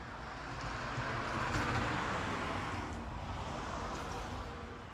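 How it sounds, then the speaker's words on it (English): A car passing on a road outdoors, a broad rushing swell of tire and engine noise that rises toward the middle and slowly fades, moderately distant with no talking. "There's a car coming."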